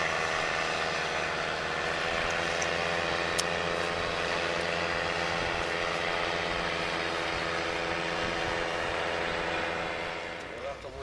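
A paramotor engine runs on the ground in Portugal, holding a steady, even droning hum for several seconds before easing off slightly at the end.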